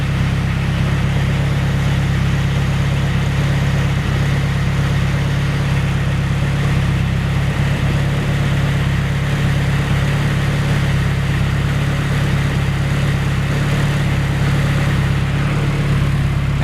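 A turbocharged car engine idles steadily, a continuous low rumble holding close and even throughout with no voices over it.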